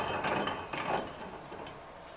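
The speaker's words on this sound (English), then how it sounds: "simply want to wind the machine anti-clockwise quite a few times so you can start to see the thread twisting" A hand-wound machine twisting thread for making hair switches gives off faint ratcheting clicks and gear whirring, several quick ticks over a couple of seconds, close and quiet.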